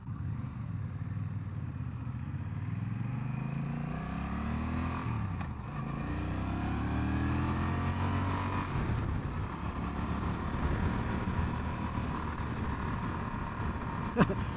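Honda Rebel 1100 motorcycle ridden on the road, its engine droning steadily with rising and falling pitch under throttle, mixed with rushing wind noise throughout.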